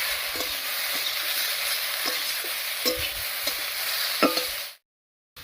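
Taro stolons stir-frying in a pan with fish and onion, a steady close sizzle punctuated by regular scraping and tapping of a spatula, cutting off abruptly near the end.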